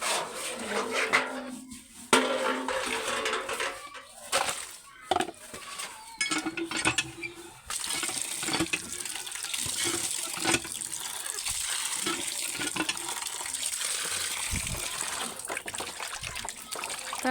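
Tap water running and trickling while meat is washed in a home kitchen, a steady close flow with intermittent splashes, rubbing and clatter, with no talk.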